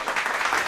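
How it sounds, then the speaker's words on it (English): Short, dense burst of clapping to celebrate reaching 10K during a live show, loud and close, with no talking over it. "Let's clap it up for that, man."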